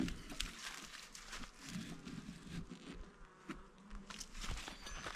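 Honey bees swarm around an open mini hive, a faint continuous buzzing hum with light tapping and rustling close by.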